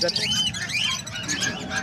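Pet birds chirp in high, quick bursts at a busy bird market in Bocaue, Philippines, while loud nearby talking carries over them throughout.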